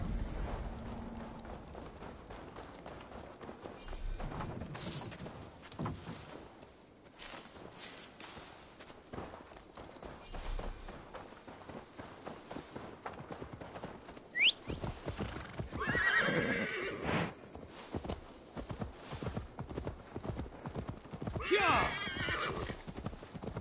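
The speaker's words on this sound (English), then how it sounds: "Now to deliver Magni his horse" Horse hooves clip-clop in a steady walking rhythm within Assassin's Creed Valhalla, broken by several loud neighs and whinnies, with game ambience underneath and no talking.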